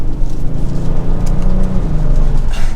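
A 2022 Kia Stinger GT2 RWD in sport mode gives a loud, close engine drone from inside the cabin, with pitch steps as it downshifts through the paddles.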